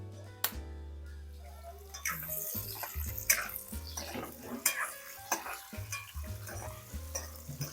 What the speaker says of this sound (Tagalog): Let's fry first our hotdog.